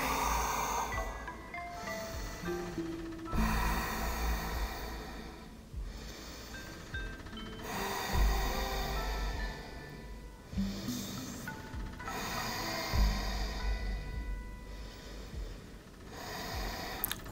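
Slow, deep breaths during a hip-flexibility yoga pose: several long inhale-exhale cycles, close and fairly loud, with soft nasal rushes and pauses between them.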